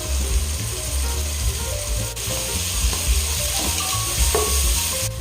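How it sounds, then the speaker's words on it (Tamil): Tomatoes with a ground paste of ginger, garlic, mint and green chili sizzle in a pan for mutton biryani: a constant frying crackle with occasional clinks and stirring scrapes, no talking. "இஞ்சி பூண்டு புதினா பச்சை மிளகாய் அரைச்சி வச்சுருக்கேன் இதையும் சேர்த்துக்கலாம்"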